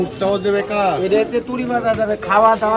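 Pigeons coo in repeated low, rolling bursts close by at a pigeon market, with people talking underneath.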